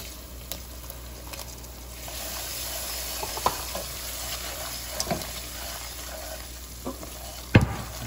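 Lobster and shrimp cook in a pan with a simmering sauce for mac and cheese, a low bubbling sizzle with occasional utensil clinks and stirring scrapes, one louder knock near the end.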